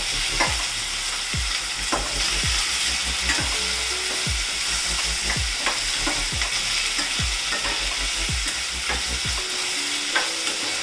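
Biryani ingredients frying in oil give a loud, continuous sizzle up close, punctuated by repeated regular scrapes and knocks of a spatula stirring the pan every second or so, with no voices.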